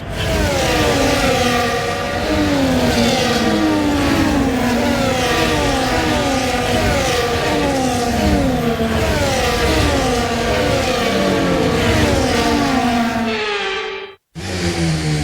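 Formula 1 cars from the F1 24 video game idle and rev on the formation lap, a dense, loud drone of several high-pitched engines rising and falling together without pause before cutting off abruptly near the end.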